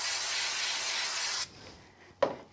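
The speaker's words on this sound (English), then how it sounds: "I'm just going to go and do a little bit of spraying." Spray bottle misting onto a craft background, a close, steady hiss lasting about a second and a half, followed by quiet handling and a brief sharp tap.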